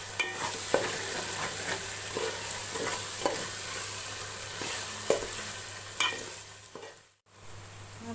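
Chicken sizzles in a pan with garlic paste for chicken gongura curry, a steady frying hiss broken by repeated scraping stirs, with a brief pause near the end.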